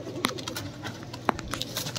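Red-eyed Rampuri pigeons give a few short, close coos and soft throaty calls amid light rustling, each call brief and separate against a quiet background.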